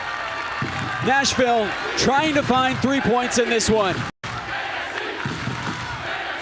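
A stadium crowd at a Nashville SC soccer match swells with a broad, roaring rumble behind a commentator who talks excitedly over it, the noise staying loud throughout with a brief dropout near the end.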